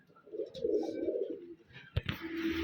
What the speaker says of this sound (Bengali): এই যে আমাদের সামনে দুইটা কবুতর নিয়ে আসছে